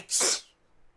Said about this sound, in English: All it would have took is one sneeze